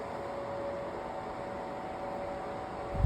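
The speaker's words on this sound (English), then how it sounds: "Yeah, this fan is pretty loud, but it's a tower fan." A loud oscillating tower fan blows steadily with a constant broadband whoosh and a faint motor whine, close and unbroken, with a brief thump at the very end.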